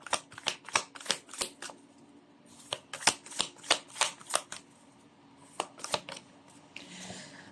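Tarot cards shuffled by hand, a steady run of close riffling snaps and slaps in two bursts separated by a short gap, ending in a soft sliding rustle as cards are pulled.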